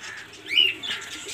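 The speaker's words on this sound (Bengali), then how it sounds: "সব ওল্ড লাইনের পায়রা এগুলো।" Old-line pigeons at a large pigeon flyer's loft, giving a short, soft cooing call close by amid light background noise.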